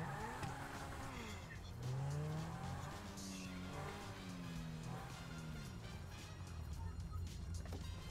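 A Rolls-Royce in GTA Online drives with its engine note rising and falling through gear changes while tires squeal in long skids, loud and continuous, with faint talk underneath.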